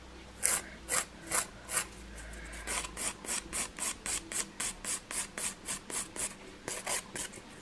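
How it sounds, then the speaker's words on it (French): A nail file rasps back and forth across fingernails in about twenty even strokes, close and fairly loud, with a short pause partway through before the strokes resume. "Donc là, je reprends mon autre lime vu que j'ai enlevé le plus gros. Et je vais essayer d'affiner un peu le tout. Là, je le lime bien droit."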